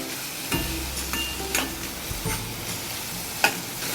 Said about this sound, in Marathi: तोही परतून घेऊया आणि 2 मिनिटं स्लो गॅसवर वाफवून घेऊया.